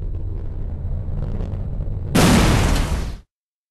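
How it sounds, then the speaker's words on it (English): A weapon striking its target in the Enemy Territory: Quake Wars PC game: a low rumbling buildup gives way to one sudden loud explosive blast that lasts about a second, then cuts to silence. "Hold down the fire button to secure the coordinates and the weapon will fire on your target."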